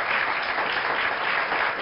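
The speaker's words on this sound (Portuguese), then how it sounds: "Mais um forte aplauso para todos os nossos convidados." Steady applause from a debate audience welcoming guests, dense clapping that stays even throughout the short clip.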